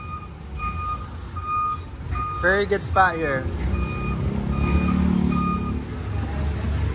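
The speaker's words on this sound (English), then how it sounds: "Since I've been here, it's been like non-stop traffic." Steady street traffic passes a busy roadside bakery while a reversing truck sounds a rapid series of high electronic beeps over the engine rumble; someone talks close by throughout.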